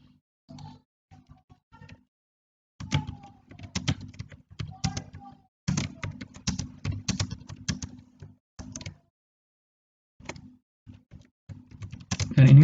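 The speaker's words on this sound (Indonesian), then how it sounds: "mungkin boleh diketik manual." Bursts of key clacks from a computer keyboard while manually entering an address in an online school enrollment form, irregular clusters of taps separated by pauses, close and fairly quiet.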